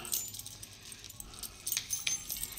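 A bunch of house keys jangles and clinks in short bursts close by, fairly faint, with a brief louder rattle near the end and quiet background between.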